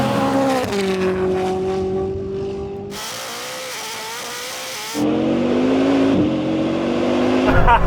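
A Bugatti Chiron Super Sport accelerates hard in a drag race against a Koenigsegg Jesko Absolut, a loud sustained engine roar rising in pitch through gear changes, with a brief gap in the middle and excited voices nearby.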